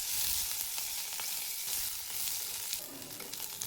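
Green chillies roast in oil in a pan, giving a steady, close, bright sizzle and crackle with no talking.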